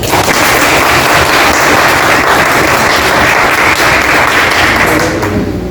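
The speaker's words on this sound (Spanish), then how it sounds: "Recibámoslo con un fuerte aplauso" Loud, dense applause from a lecture audience welcoming the speaker at a history talk on Venezuela, a close continuous roar of clapping that stays constant and begins to fade only at the very end.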